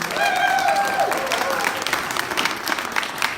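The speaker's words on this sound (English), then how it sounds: "Basing on that applause" An audience at a press conference inside Asheville's US Cellular Center claps, a dense burst of applause that gradually thins, with a speaker's voice heard at the start.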